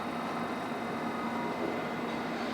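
Interior of a London Underground Metropolitan line train held at a red signal, a steady, dense rumble and hum filling the carriage with no distinct events.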